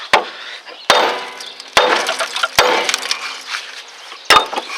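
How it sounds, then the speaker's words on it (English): A hammer strikes a Dodge/Plymouth Neon tie rod end several times to knock it loose, sharp loud metallic bangs spaced irregularly with ringing and clatter between them, close by. "Just use a hammer. I will just hit it a couple times."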